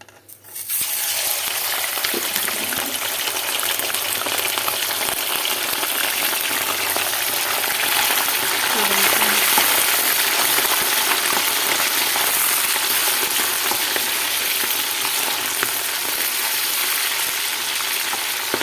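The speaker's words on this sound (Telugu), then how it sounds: "ఇప్పుడు మటను డీప్ ఫ్రై చేస్తా ఫ్రెండ్స్ చూడండి" Mutton pieces deep frying in a pan of hot oil for pickle, a continuous loud bubbling sizzle with faint crackles, steady throughout with no talk.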